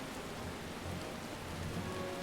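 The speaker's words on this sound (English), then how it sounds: "Oh, now it's raining." Steady rain falls in Final Fantasy XIV as a continuous, even hiss of drops with faint low rumbling underneath, no voices over it.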